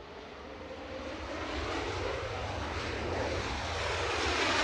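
A WestJet airliner arriving at Edinburgh Airport from Toronto makes a broad, distant engine roar that builds steadily louder over several seconds, alone without talk.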